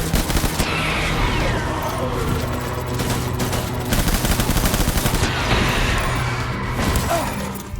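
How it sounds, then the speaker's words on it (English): Assault rifle gunfire in the video game Death Stranding, dense sustained bursts of automatic shots with crashing impacts, loud and continuous through the whole stretch. "Let's switch back to the assault rifle."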